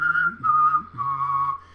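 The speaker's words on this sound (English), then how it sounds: "just hum and whistle the same note, and go like that, just in total unison or parallel" A single voice hums and whistles the same note together in unison, holding three sustained tones in a row, the whistle riding clearly above the low hummed pitch, close and alone.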